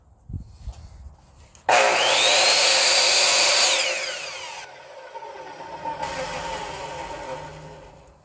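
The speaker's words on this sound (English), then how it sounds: "I'll clamp my board back down and let's cut one of these." A saw cuts through a clamped wood board for a segmented woodturning project, with a loud sustained rasping cut starting abruptly after a few faint knocks, then easing into quieter grinding.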